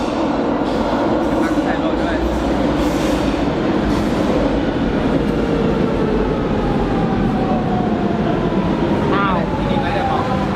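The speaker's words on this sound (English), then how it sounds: "We just got off the metro at Cabo Ruivo, and this is the closest metro station to the Lisbon Aquarium" Lisbon metro train riding toward Cabo Ruivo station, a loud constant rumble and rattle of rail cars with squealing wheels near the end, while people talk over the noise inside the carriage.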